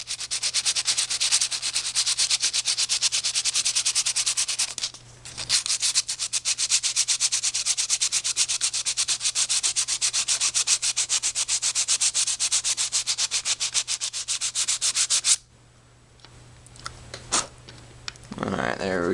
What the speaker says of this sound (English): we'll just take our sandpaper and just sand away on the tracks here until we get a nice silvery look.